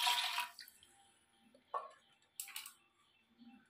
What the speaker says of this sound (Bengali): পরিমাণ মতন আমি জল দিলাম